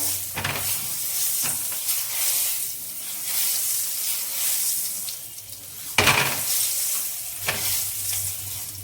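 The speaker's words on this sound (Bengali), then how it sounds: "আমি তেলটাকে চারিদিকে লাগিয়ে নেব কড়ার ধারে" Oil sizzles in a hot wok (kadai) as it is spread around the edges with scraping stirs, a soft crackling hiss broken by a few sharper clanks and louder bursts of frying.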